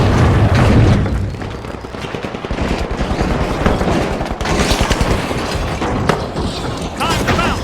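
Explosions and rapid automatic gunfire from a shooter game, The Finals, with a frag grenade in play: dense, loud bursts and booms repeat throughout, with game voice callouts mixed in.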